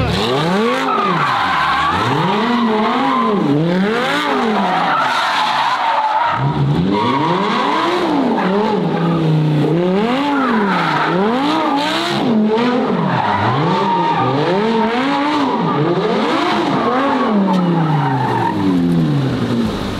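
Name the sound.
car doing a U-turn with skidding tires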